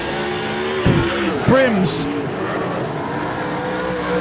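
Super sedan race cars lapping Rockhampton Speedway, a steady engine roar under a race commentator's voice, with a brief tire squeal partway through.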